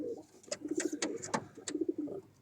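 Black pigeons coo softly at close range, repeating short throaty phrases in a gentle rhythm with a few sharp clicks between them.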